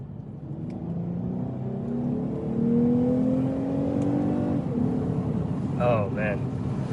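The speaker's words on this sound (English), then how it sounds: "Just downshift real quick." A V10 car engine revs during a quick downshift, a steady loud drone whose pitch climbs and then drops, heard from inside the cabin with faint road noise underneath.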